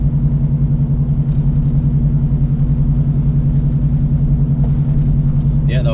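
A 1996 Impala SS engine rumbles steadily during a test drive, a low, even drone with a pulsing mid-low hum, heard close from inside the car.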